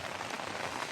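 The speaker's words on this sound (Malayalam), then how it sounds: "എങ്ങനെയുണ്ട് മഴ?" Heavy rain falls steadily on surfaces outdoors, a dense, even patter that fills the short moment without any talk.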